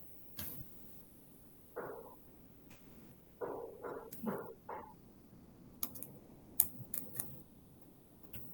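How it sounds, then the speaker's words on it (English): Keystrokes on a computer keyboard during a JavaScript coding session, heard as sparse clusters of light clicks and taps with pauses between them, fairly close and alone with no talk. "You're typing."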